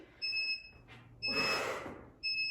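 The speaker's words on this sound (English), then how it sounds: "Make sure you're starting on the buzzer as well." A workout interval timer sounds sharp electronic beeps in short bursts, three tones separated by brief gaps, with a breathy whoosh of movement in between.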